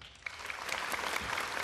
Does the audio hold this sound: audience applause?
yes